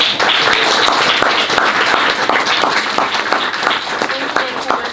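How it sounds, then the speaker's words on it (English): An audience claps steadily at an author event, a dense, loud wash of applause that continues without pause for the whole stretch. "Can I have a round of applause,"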